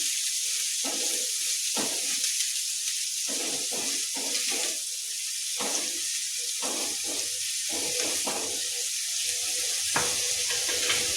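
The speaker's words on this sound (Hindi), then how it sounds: "इसे ब्राउन होने तक अच्छी तरह" Potatoes coated in besan (gram flour) fry in a pan until brown, giving a steady close sizzle with occasional stirring scrapes and no talk.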